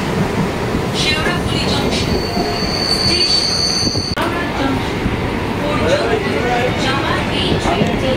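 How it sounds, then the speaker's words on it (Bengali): A nearly empty suburban local train near Serampore runs along the rails, heard from inside the carriage as a loud, constant rumble with high wheel squeal. Voices come and go faintly underneath. "দেখো ট্রেনটা পুরো ফাঁকা"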